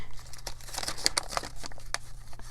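Thin plastic eclipse tape crinkling and rustling while being slid into a paper punch, with scattered sharp crackles and brief snaps, close and fairly quiet, no talking.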